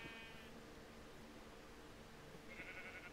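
Sheep in a blocky survival video game let out short wavering bleats, one at the start and another near the end, over a faint steady background hum with no talking.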